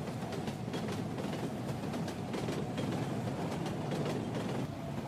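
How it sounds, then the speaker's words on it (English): An intercity train rolls past with a steady rumble and rapid rhythmic wheel clicks over the rails, loud and close throughout. "Intercity train."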